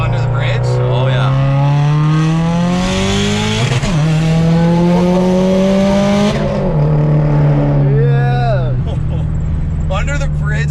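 Big-turbo Subaru STI accelerates hard under a bridge, its loud engine rising in pitch through several gear pulls with sharp shift breaks and turbo whoosh, echoing close up, with people talking over parts of it.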